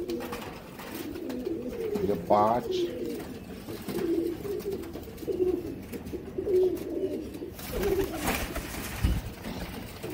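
Blue-eyed pigeons in a loft cooing in low, repeated throaty murmurs, with a brief sharper call early on and someone speaking quietly over the birds.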